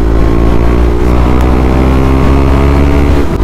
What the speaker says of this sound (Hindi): बबलिंग हो रहा है इस बाइक में,